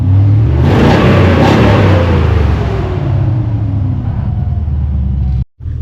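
A GMC Sierra's 6.0-liter LS V8 runs steadily and loud up close, a deep rumbling idle with some revving swells, then cutting off abruptly near the end.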